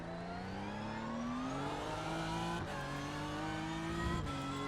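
BMW M4 GT3 race car engine in the iRacing sim, a raw, steady drone rising in pitch as it accelerates, with brief dips at gear shifts around the midpoint and near the end, loud and continuous with no talk.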